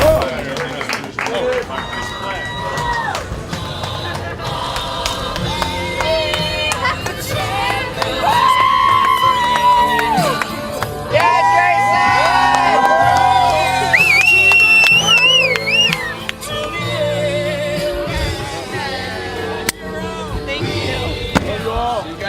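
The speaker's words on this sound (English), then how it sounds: "Another big round of applause to Jason." An audience on Main Street in Talkeetna, Alaska claps and cheers, a lively mix of applause, whoops and crowd chatter with some sustained tonal sounds running underneath.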